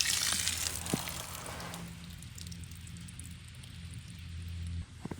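Water drains from an RV's freshwater tank, first a close, hissing gush that gives way to a softer steady trickle and splash, ending with a couple of faint knocks.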